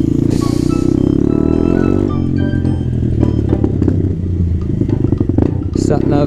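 A Honda Grom motorcycle engine drones steadily while riding on the freeway, loud and close with a shift in pitch partway through, heavy wind rumble, and a rider talking over it.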